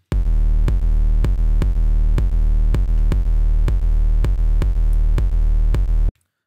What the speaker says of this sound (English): So if we solo the kick and turn it off, sounds a bit like this.